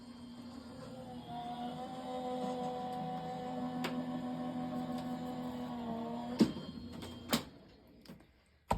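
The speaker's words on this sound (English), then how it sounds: "I'll run that through my Anna Griffin machine here" An Anna Griffin die cutting machine runs mirrored cardstock through with a steady mechanical hum and whir, followed by a few sharp clicks and knocks near the end, close and alone.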